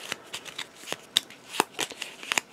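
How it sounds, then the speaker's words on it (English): A deck of cards for a Lord of the Rings board game is shuffled by hand up close, giving a series of quick riffles and soft snaps at an uneven rhythm, with no talking. "we're going to have to shuffle up his deck"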